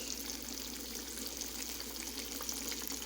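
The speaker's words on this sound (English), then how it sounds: "Let me get y'all down in the frying pan with this fish." Whiting fish sizzles steadily in hot oil in a skillet, a dense crackling hiss with scattered pops, close and continuous with no talk.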